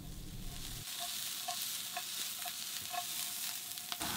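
Onions fry in oil in a pan with a soft, steady sizzle. Regular light taps and scrapes of stirring, roughly twice a second, sit close over the frying, and no one speaks.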